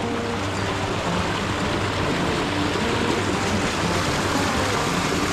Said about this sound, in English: Just a little creek, right?